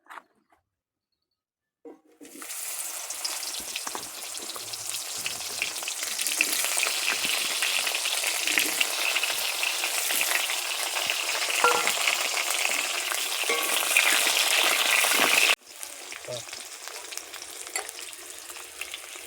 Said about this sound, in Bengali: তেল গরম হয়ে গেছে, এবার আমি পটল গোটা ভেজে নেবো